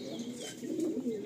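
Pigeons in a home loft in Garia coo softly and steadily, a low continuous burbling murmur close by with faint chirps above, no talking.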